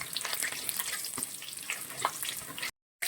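Onions sizzle and crackle steadily in hot oil while being stirred until golden for tomato rasam, a close, continuous frying hiss that cuts off abruptly near the end.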